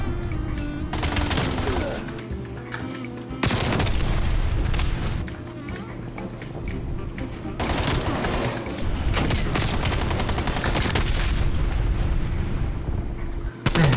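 Bursts of AMP63 pistol gunfire crack out in quick clusters over a steady Call of Duty: Black Ops Cold War soundtrack, with a short lull between volleys and another burst near the end.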